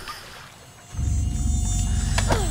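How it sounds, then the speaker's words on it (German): A droning, insect-like buzz from mosquitoes in Fable Anniversary swells in abruptly and holds steady and fairly loud, with a faint tonal whine above it and no talk. "Die hören sich aber eklig an. Ich hasse diese Geräusche von Schnaken."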